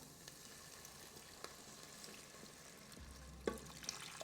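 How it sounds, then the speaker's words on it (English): Flour frying in a pot while making pot roast, a faint, steady low sizzle with occasional soft stirring taps, close and quiet without talk. "Make sure you fry the flour."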